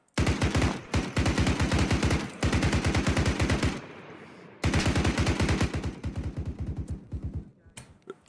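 Sustained machine-gun fire in the video game Arma 3, loud and close, with long rapid bursts broken by short pauses, then a final run of quieter, more spaced shots.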